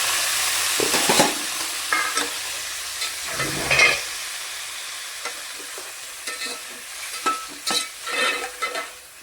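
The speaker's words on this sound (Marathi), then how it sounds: "मासे तळून घ्यायचे आपल्याला. ते मासे बनवायचे तळून घ्यायचे." Fish rubbed with turmeric and salt frying in hot oil in a pan, with a crackling sizzle broken by bursts of spattering and the clatter of stirring and turning, louder at first and then settling into intermittent pops.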